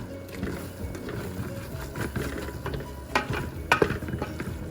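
Paneer biryani being stirred in a cooking pot, with a steady run of scraping and clinking from the utensil against the pot, a few sharper knocks near the end, no talking.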